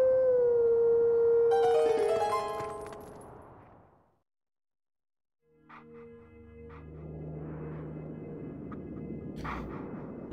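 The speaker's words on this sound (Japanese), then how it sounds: "じゃあ最後の師匠との遠吠えやね" Wolf Link from Zelda Twilight Princess HD howls in a long, loud sustained tone with a rising melody, then after a brief silence a second howl melody plays over ambient game music.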